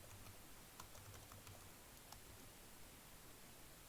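Typing on a computer keyboard while filling in dates in a OneNote digital planner: soft, scattered keystroke clicks, very faint against a steady background hiss.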